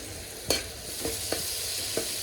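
Tadka tempering for aloo methi sabzi sizzling steadily in a pan, close and constant, punctuated by four sharp spoon scrapes and clinks as it is stirred.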